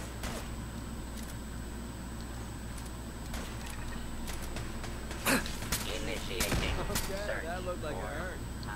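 A laser turret in Fallout 4 fires a few sharp, punchy zaps, bunched together in the second half over a low steady background hum. Someone talks faintly in between.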